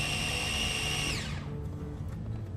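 A blender purees an herb sauce sweetened with agave, giving a steady, loud whirring for just over a second before winding down and stopping.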